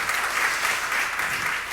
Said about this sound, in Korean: 다시 한번 박수와 우리 서로에게 격려해